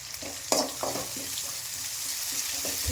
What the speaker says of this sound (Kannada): ಪುದೀನ ಸೊಪ್ಪನ್ನು ಒಗ್ಗರಣೆಗೆ ಹಾಕೋತಾ ಇದ್ದೀನಿ.